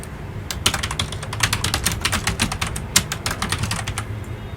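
Steady rapid typing on a computer keyboard, close and fairly loud, with quick irregular key clicks running the whole time over a low background hum.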